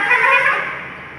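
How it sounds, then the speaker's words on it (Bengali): A single short car horn blast sounds from passing traffic on a roadside during a rainy day: loud, close and fading over about a second. "আর এই রাস্তার পাশে থাকার জন্য এই যে গাড়ির আওয়াজ প্রচণ্ড পরিমাণে"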